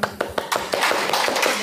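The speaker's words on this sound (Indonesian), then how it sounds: "Tepuk tangan buat Kang Abu." A small indoor audience claps for a newly arrived guest, a brief burst of quick, uneven hand claps that grows denser over a second or so.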